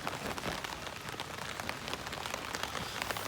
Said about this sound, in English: it's rained off and on for about 24 hours